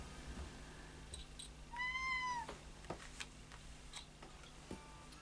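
A single clear cat meow rises and falls near the middle, fairly close, set against faint ticking and a quiet room hum, with no talking.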